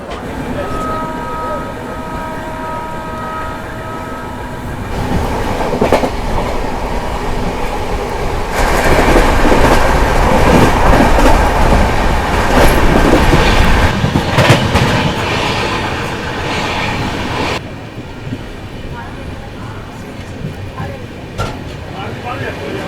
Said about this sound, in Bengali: দুটো ট্রেনই একসাথে ছাড়লো